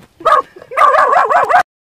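A puppy gives short yips and whimpering barks up close, a brief burst followed by a longer warbling run of yelps, loud against a quiet background.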